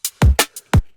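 A drum-and-bass drum break layered with a kick sample plays alone: punchy low kicks and bright snare and hat hits in a quick syncopated pattern, loud and close.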